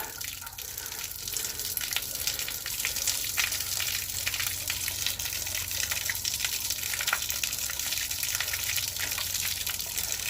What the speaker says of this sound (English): Flushing it with the hose because some of that stuff was discolored and I was worried.